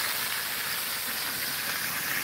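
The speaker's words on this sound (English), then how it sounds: "I'm flash frying it" Mutton curry flash frying in a pan gives a steady, even sizzling hiss that holds at a constant level throughout, close and fairly loud, with no talking.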